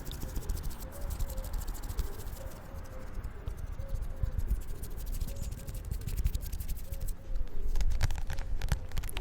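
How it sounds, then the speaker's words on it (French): Soft, repeated pigeon coos sound faintly outdoors beneath steady traffic rumble and scattered rustling noise. "On entend des petits bruits de pigeons également."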